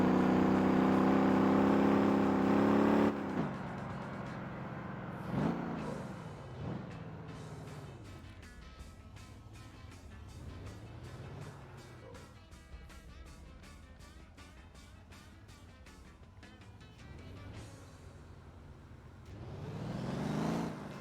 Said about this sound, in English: Oh, a little burnout on the road there.